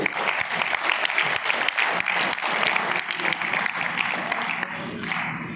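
A crowd at a gathering bursts into loud, sustained applause, many hands clapping densely and close by for several seconds before easing slightly toward the end.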